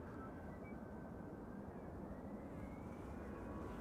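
An Airbus A320 takes its departure roll on runway 09 at Amsterdam Schiphol, a steady, distant jet roar that stays low and even throughout.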